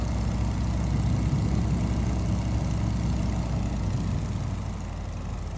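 A steady, droning biplane engine in a flight simulator, a Stearman flying inverted and starved of fuel, hums continuously with a rough, uneven tone, constant in loudness throughout with no voices.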